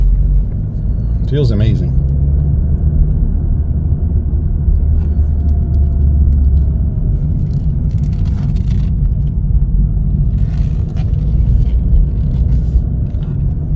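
A Chevrolet Cruze LT on a test drive, its steady low road rumble and engine hum filling the cabin throughout, with a brief scrape early on and people talking over it.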